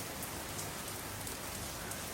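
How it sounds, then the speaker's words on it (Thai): Heavy rain pours down in a dense, constant hiss of drops pattering on surfaces, loud and unbroken with no voices. "ฝนหาใหญ่หาหลวงมาละเนอฝนมาแล้ว"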